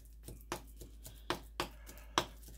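Crab and shrimp are minced with a knife on a cutting board for rangoons, giving about eight crisp, close chops at an uneven pace with quiet gaps between them.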